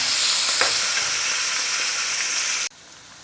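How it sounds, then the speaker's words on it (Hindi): Onions sizzle steadily in hot oil with a bright, constant hiss up close, cutting off abruptly near the end. "चलिए जी, प्याज को फ्राई करते हैं।"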